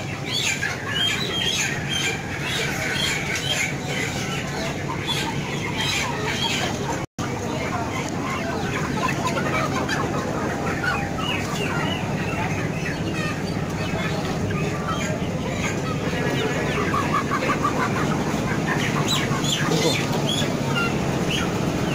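Chickens squawk continuously at a large chicken market in Pasuruan, East Java, a dense, loud, busy din with talk mixed in throughout.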